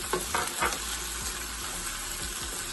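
Tomatoes dropped into a pan of frying onions for a homemade lasagna sauce give off a close, steady sizzle. A few sharp scraping and stirring knocks land early, and the hiss continues without speech.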